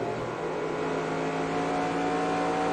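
A NASCAR stock car engine in the NASCAR Racing 2003 sim, lapping Rockingham during the Subway 400, holds a loud, steady high-revving drone throughout, with no voices over it.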